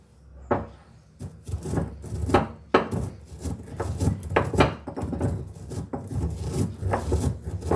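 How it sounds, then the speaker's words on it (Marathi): Dried fennel and fenugreek seeds crushed coarsely in a stone mortar and pestle for raw mango pickle, a close run of irregular pounding thuds and grinding rubs, steady and fairly loud with no talk. "आता हे आपण खलबत्त्यामध्ये बारीक करून घेणार आहे"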